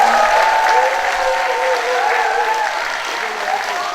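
Warm, sustained applause from a full café audience at a humanities talk concert, many hands clapping together and fading slightly toward the end.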